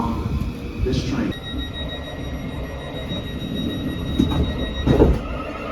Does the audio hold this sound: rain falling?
no